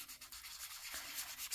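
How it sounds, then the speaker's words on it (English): A photo print being sanded with a Ranger sanding disc to scuff off its glossy surface, a steady close, soft rasping rub that runs continuously with slight swells and no talk. "I'm using the Ranger sanding disc for that and just make the surface a little bit"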